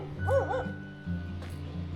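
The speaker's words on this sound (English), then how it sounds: "Oh, those dogs are a bit more vociferous than the other ones." Dogs near a wooden church built by Romanian wood carvers bark and yip in a few quick bursts at moderate distance, over a low steady background hum.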